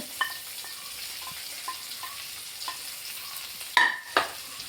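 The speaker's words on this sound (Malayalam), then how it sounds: "ഇഞ്ചിയും വെളുത്തുള്ളി ചെറുതായിട്ടൊന്ന് മൂത്ത് വരുമ്പോൾ" Ginger and garlic fry in a pan for a prawn roast, a steady close sizzle broken by a series of spatula taps and stirring scrapes, with a couple of sharp metallic clinks at the end.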